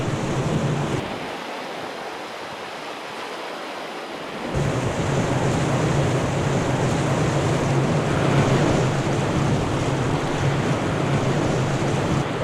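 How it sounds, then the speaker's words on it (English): A canoe runs a fast whitewater rapid on the big Poplar River. Loud, broadband rushing water swells in after a brief quieter stretch and roars steadily to the end. "Fast little rapid here."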